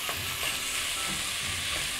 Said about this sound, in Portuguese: Agora dou uma refogada na linguiça